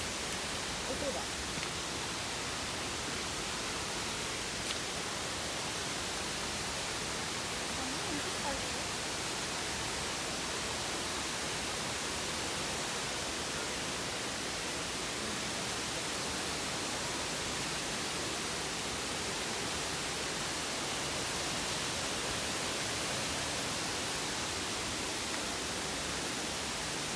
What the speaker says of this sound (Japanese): ああ、滝だわ。